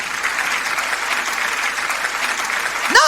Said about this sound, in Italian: lo accogliamo con un forte applauso